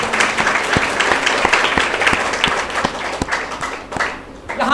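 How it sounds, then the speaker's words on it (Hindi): A church congregation applauds during a Hindi-language sermon, with dense, steady clapping from many hands that holds loud throughout and thins slightly toward the end. "तो बजाओ ताली प्रभु यीशु के लिए।"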